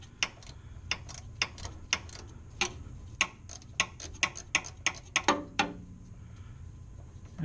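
A ratchet on a long extension with a 13 mm socket loosens a bolt, giving a series of sharp, evenly spaced clicks that speed up toward the end, close and clear over a low background hum.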